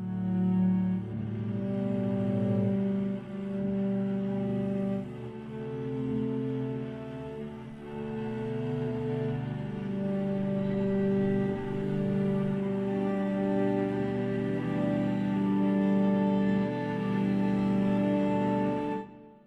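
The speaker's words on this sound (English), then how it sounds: "I'm going to play the cello long flautando" Cello long flautando notes from the Abbey Road Two strings sample library, vintage mix with reverb: soft, airy sustained tones overlapping in a slow, gentle line, swelling and fading under a warm room wash.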